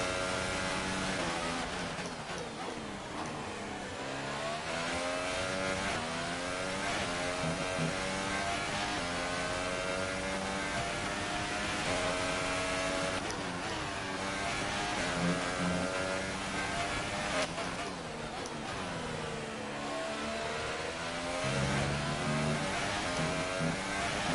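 A Formula 1 car in the F1 2018 racing game screams steadily through a lap, its high engine note rising and falling with gear changes and corners, loud and continuous with no talking.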